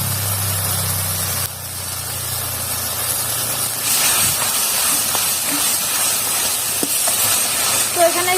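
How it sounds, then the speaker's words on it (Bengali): Chili paste sizzles in a hot pan for pabda fish curry, a steady loud hiss and crackle with a low hum under the opening seconds and a few sharp pops near the end, no talk. "এর মধ্যে আমি দিয়ে দেবো লঙ্কা বাটাটা"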